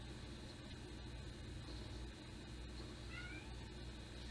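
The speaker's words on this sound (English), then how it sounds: "And you can hear cats in the background." A cat meows faintly in the distance, a short rising wail, beneath a steady low hum and background noise.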